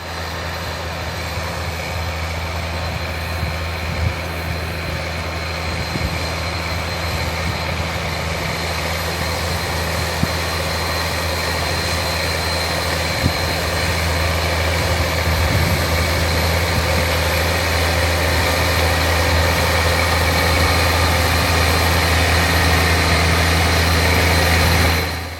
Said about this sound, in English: let's head out to the field so you can see and hear this tractor at work